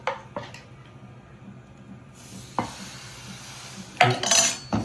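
A spoon stirs a pot of Nongu sarbath or paal sarbath, giving a few sharp metallic clinks and scrapes spaced apart, with a louder clatter near the end against a quiet kitchen.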